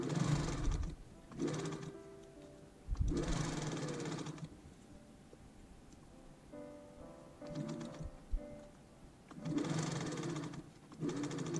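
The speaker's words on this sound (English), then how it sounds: "And sewing the peplums onto the bodice pieces." A sewing machine stitches peplums onto the bodice pieces of a vintage-style dress. It runs in several close bursts of rapid whirring, separated by short pauses, with no talking.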